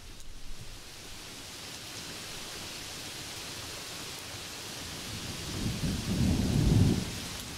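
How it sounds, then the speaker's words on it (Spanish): Steady rain pouring down with a low rumble of thunder swelling toward the end, a constant hiss of falling water heard alone with no voices. "disfruta de la lluvia"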